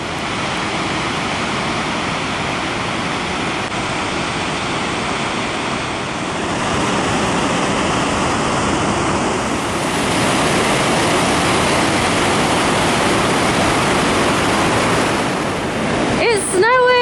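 Steady roar of an Icelandic waterfall, broad and continuous, heard outdoors with wind buffeting the microphone and a brief rise near the end.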